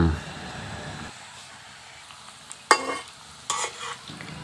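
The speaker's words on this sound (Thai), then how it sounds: "นำตะหลิวมากวนอย่าให้ไหม้นะ" Fried tempeh and smashed garlic being stir-fried with a spatula in hot oil, a steady sizzle with a few sharp scraping clatters of the spatula against the pan near the end.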